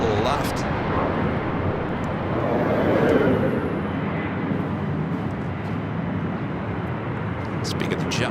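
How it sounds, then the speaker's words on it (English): An Asiana Airbus A380 on its takeoff roll from runway 24 left at LAX, a broad, steady roar of jet engines that swells and then holds, heard from a distance with no talk. "who's ready for another A380 takeoff? Asiana Flight 201, the flight heading back to Seoul."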